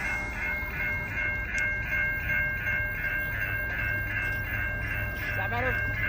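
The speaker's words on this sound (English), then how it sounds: "I can see the train more." A CN freight train rolls past in autumn, with a steady rumble and sustained horn-like tonal bands over the whole stretch, while people talk in the background.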